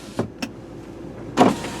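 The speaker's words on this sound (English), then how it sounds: "Right rear window, down and up." Rear power window on a 2001 VW Passat 4motion running down and then back up: two short motor whirs with a clunk, a pause, then a louder whir and thud as the glass closes, heard up close.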